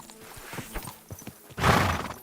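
Horse in Kingdom Come Deliverance 2, with rhythmic hoofbeats galloping up close and then a loud, drawn-out neigh near the end.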